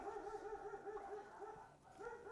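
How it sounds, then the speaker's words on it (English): Several dogs barking and whimpering in a garden, a steady run of overlapping yelps and whines at a distance, faint but continuous. "the dogs are going mad"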